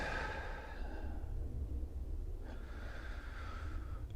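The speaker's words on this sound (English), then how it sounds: "And we try to breathe into the belly" Slow, deep breaths drawn into the belly during a breathing exercise, close and quiet, a long airy inhale followed by a soft exhale, with no talking.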